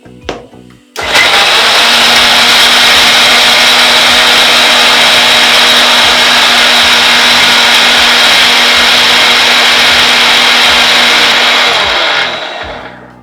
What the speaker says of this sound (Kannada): ಇದೀಗ ಚಟ್ನಿ ರುಬ್ಕೊಂಡು ಬಂದಾಯಿತು